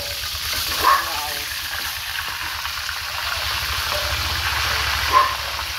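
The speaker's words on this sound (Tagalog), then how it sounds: "Habang nagpiprito tayo ng isda" Fish frying in hot oil for sweet and sour dorado, a steady close sizzle with a low bubbling rumble and a couple of sharper spits, continuing without any talk.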